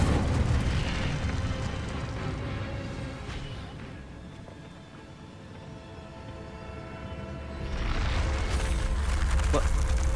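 The Incendio fire spell in Hogwarts Legacy bursts with a loud, roaring whoosh that dips briefly before swelling again into a rumbling blaze of game effects.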